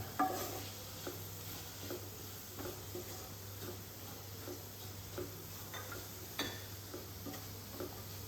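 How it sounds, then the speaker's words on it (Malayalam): Onions soften in a pan while being stirred for a semolina-and-egg dish. A low, steady frying hiss sits beneath soft, repeated ticking scrapes of the spoon. The sound is quiet and close, and nobody speaks. "അപ്പോൾ നല്ലോണം ഒന്ന് വഴറ്റി കൊടുക്കാം"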